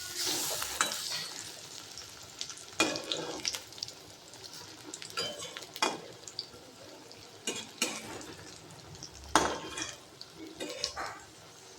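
Pakoras frying in oil on a low flame, a soft steady sizzle broken by sharp utensil clinks and scrapes as pieces are turned, no talk.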